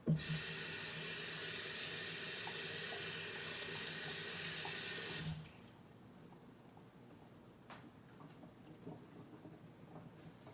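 Tap water runs steadily into a sink while rice paper is wetted for shrimp summer rolls, a loud, even hiss that cuts off abruptly, followed by faint drips and small kitchen sounds.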